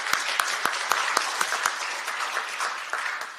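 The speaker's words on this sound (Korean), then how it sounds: "연대와 격려의 박수 한번 다시 부탁드립니다" Audience applause at a Korean talk concert on resisting media control, a steady crowd clapping with individual claps standing out, sustained and fairly close throughout.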